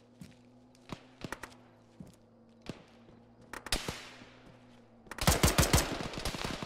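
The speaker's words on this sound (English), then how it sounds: "I hear shots over there, but I don't see them." Gunshots in the Arma video game: scattered single cracks and small bursts at a distance, then a sharp close volley of rapid fire near the end.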